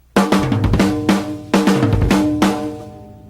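Rock drum kit fill around the toms with doubled bass drum strokes, a few loud resonant tom hits rolling downward in two phrases, close and unaccompanied, with cymbal wash decaying at the end.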